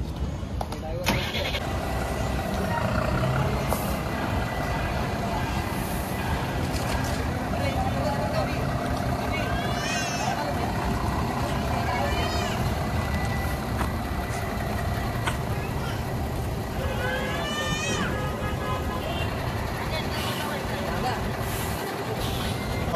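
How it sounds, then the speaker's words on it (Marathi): A 10-tyre truck's engine rumbles steadily as the vehicle pulls out, a loud continuous drone with brief air-brake hisses and someone talking over it. "गाडी पाहू शकतात तुम्ही 10 टायर"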